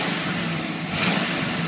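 A 2001 Chevy 8.1L 496 big block V8, not fully warmed up and with exhaust leaks, revs up from a rumbling idle into a brief, louder surge, heard close with no talking.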